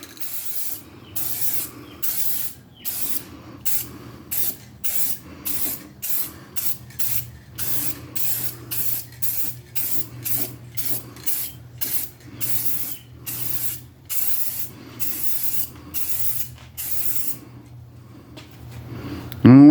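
Repeated bursts of Rust-Oleum color-shift aerosol spray paint, short hissing blasts in quick rhythm with brief pauses, close up, over a low steady background hum.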